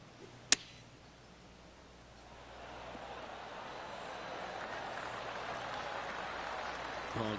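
Polite golf clap from spectators around a golf course green, soft scattered applause that swells gradually from faint to moderate and stays distant and even, after a single sharp crack near the start.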